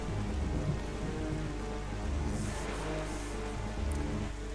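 Steady rain in the video game Zelda: The Wind Waker patters continuously at moderate volume, with a dense wash of drops and soft rumbling underneath.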